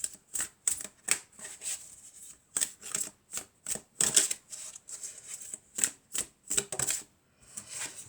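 Oracle cards are shuffled by hand in a close, crisp, repeated rhythm of riffling bursts with short pauses between them, and no talking.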